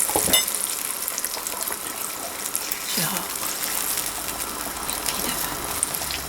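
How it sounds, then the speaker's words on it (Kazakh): Sauce poured over frying meatballs in a pan, a quiet steady sizzle and bubbling with a brief pouring gush, heard close up. "соусын құямыз"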